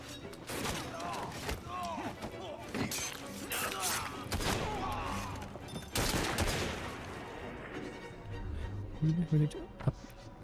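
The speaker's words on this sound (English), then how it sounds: "Who are they shooting at?" Enemy gunfire rattles in Assassin's Creed, with repeated sharp shots and bursts scattered across the stretch, plus a heavy thud near the middle, while a voice talks over parts of it.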